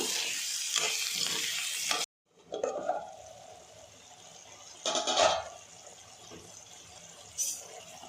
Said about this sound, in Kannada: ಈಗ 1 ಬೌಲು ಮಶ್ರೂಮ್ ಹಾಕ್ತಾಯಿದ್ದೀನಿ. ಇದನ್ನು ಚೆನ್ನಾಗಿ ಮಿಕ್ಸ್ ಮಾಡಿಬಿಟ್ಟು ಬೇಯೋದಕ್ಕೆ ಬಿಡಬೇಕು.